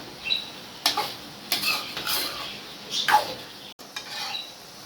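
Chicken sautés with turmeric in a pan, and a spoon scrapes and clinks against the metal in separate strokes about once a second. Only a faint sizzle sits underneath, and no one speaks.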